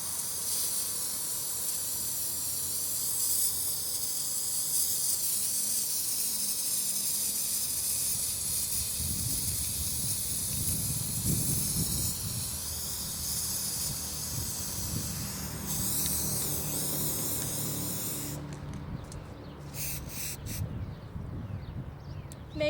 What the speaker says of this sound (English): I'm going to take the color I want and spray paint all of this.